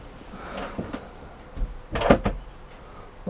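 A toilet door in a 2021 Niesmann Bischoff Flair 920 EK motorhome swings and shuts with a soft thud and a latch click, close by in a quiet interior.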